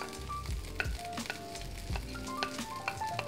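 Onions going back into a pan of frying rice, a steady sizzle broken by repeated stirring scrapes in a quiet kitchen.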